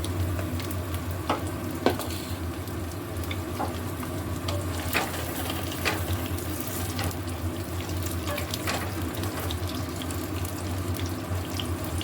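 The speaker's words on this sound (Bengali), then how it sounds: "এবার এই আলুগুলো আস্তে আস্তে একটু হালকা ফ্রাই করে নেব।" Boiled, salted potatoes lightly frying in hot oil in a wok, a continuous even sizzle with scattered crackles and stirring scrapes, close and alone without talk.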